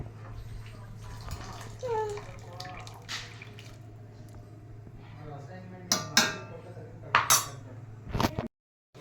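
Water is added to a pot of vegetables for a garlic pepper vegetable soup. It pours softly over a low steady hum, and a few clinks and clatters of a vessel and utensils sound near the end.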